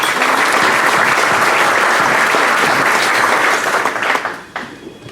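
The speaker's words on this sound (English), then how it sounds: "Give yourselves a round of applause." An audience at a Rotary club meeting breaks into loud, dense applause that holds steady for several seconds, then thins out and fades quickly near the end.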